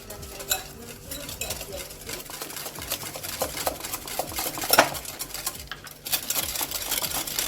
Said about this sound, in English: Now slowly add the oil while you're mixing.